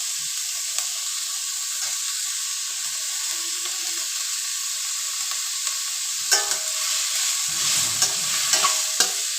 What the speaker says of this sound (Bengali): ভালোভাবে এটাকে ফ্রাই করব।